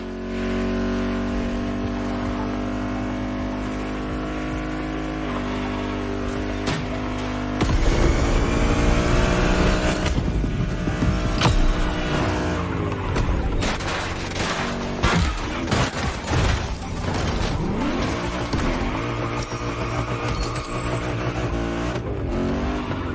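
A car in The Crew Motorfest gymkhana event at Barbers Point harbor revs hard and skids, engine roaring continuously with bursts of tire screech and impacts, loud and mixed over game music.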